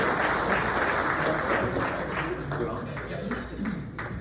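Audience applause at a morning candidates forum in Corona welcoming a guest, a dense wash of clapping that gradually thins toward the end as a voice begins speaking over it.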